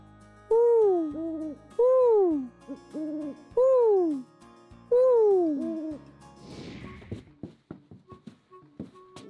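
Voices imitate an owl, giving about five loud, close hoots with a rising-then-falling pitch in a steady rhythm, followed by a run of faint scattered taps.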